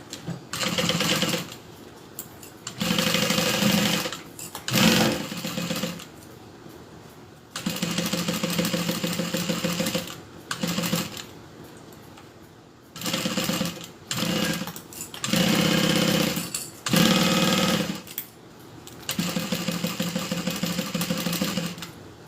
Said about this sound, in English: I'm just going to go ahead and sew that into place